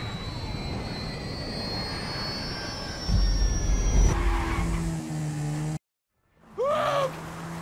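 In the video game GTA 5, a car's engine roars and skids as it drives off-road, with a plane's whining engine above; a brief silent gap, then a closing burst of revving.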